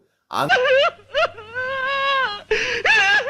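A woman on the Bigg Boss Malayalam reality show cries in loud, wavering wails and sobbing moans, broken by short breaths, near and clear with no other voices.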